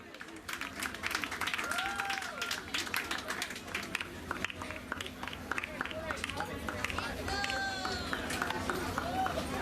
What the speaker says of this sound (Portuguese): Forte aplauso para nós receber o cenário.